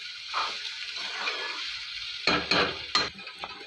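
Okra being stirred in a pan with coriander powder, turmeric and salt, a soft scraping stir with faint sizzle and a few sharper utensil knocks toward the end, no talking.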